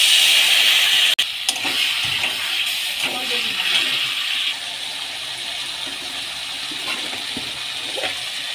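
A little water hits a pan of frying potatoes and pointed gourd, setting off a loud, steady hiss and sizzle that begins with a sharp click and settles into a sustained bubbling rush.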